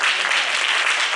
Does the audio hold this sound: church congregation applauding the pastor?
yes